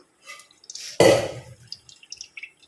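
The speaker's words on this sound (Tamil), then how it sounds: "இப்போ எண்ணெய் ஊற்றிக்கலாம்" Sesame oil poured into a pan for tomato pickle, a sudden splash and steady trickle that settles into scattered faint drips and small spatters.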